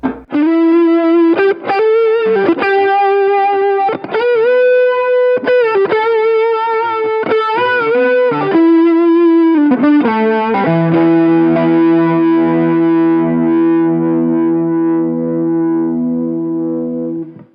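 An electric guitar runs through a tone pedal and pedal board into a clean Fender amp, playing a melodic lick of bent notes with light drive, then a long ringing chord that slowly fades.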